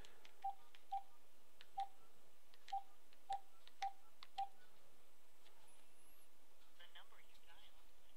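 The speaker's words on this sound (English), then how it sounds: "then I'm going to dial the **5 number" A home phone dials through an Obi100 VOIP telephone adapter: seven short, clear keypad tones in a quick, uneven sequence, then a quiet line with faint background noise.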